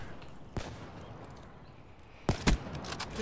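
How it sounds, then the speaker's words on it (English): Gunshots in a Call of Duty: Black Ops 3 free-for-all match: one faint crack early on, then a louder pair of close sharp shots near the end over steady game ambience. "Why did I shoot there?"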